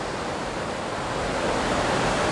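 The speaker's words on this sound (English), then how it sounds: "Now by Hebden Water, near to the weir, the Bridge Mill." River water on Hebden Water pours over a weir near Bridge Mill in Hebden Bridge, a loud, dense, continuous broadband rush that swells slightly toward the end.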